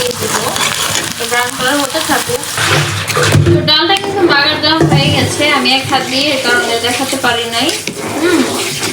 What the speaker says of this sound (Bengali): ডাল ডাল বাগারের জন্য আমি পেঁয়াজটা ভেজে নিতেছি